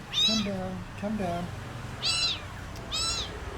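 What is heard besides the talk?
cats meowing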